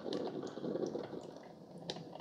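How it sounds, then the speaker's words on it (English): Hot water streams from a Gourmia iced coffee maker as it brews over ice, a quiet, steady trickling and splashing that continues without a break. "let's check a temperature of the water coming out."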